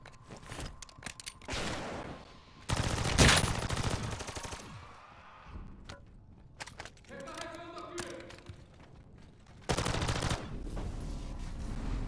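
Bursts of video game gunfire in Operation Deadbolt, loud rapid shots in several clusters with quieter gaps and some faint voices between.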